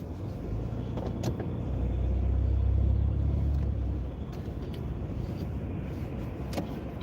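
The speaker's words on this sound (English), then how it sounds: "There's a lot of traffic here, so you really got to be careful." Road traffic rumbles nearby, a vehicle swelling louder as it passes and fading, with steady low engine noise throughout and no talking.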